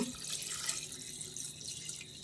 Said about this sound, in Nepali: अब चाहिँ म यसमा पानी एड गर्न गइरहेको छु